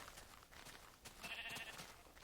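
A faint, short sheep bleat rises once in the middle of quiet background sound in the video game Minecraft.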